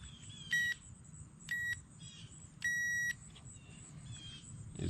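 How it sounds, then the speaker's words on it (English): Three electronic beeps from a power probe testing wiring on a 1985 Chevrolet Corvette, two short and one longer, sounding in a quiet room over a low background hum. "Let's turn the beep off."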